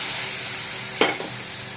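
Banana curry sizzles in a pan as mustard paste, chili paste and hot water go in, a steady frying hiss with a sharper splash of sizzling about midway.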